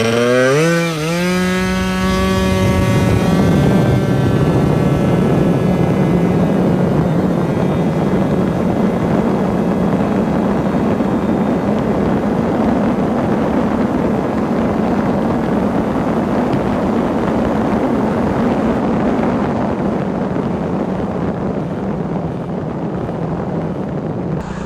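A 120cc stroker Honda Elite scooter winds up quickly at first, then holds a loud, steady high-speed drone near 70 mph, with rushing wind noise blended in the whole way.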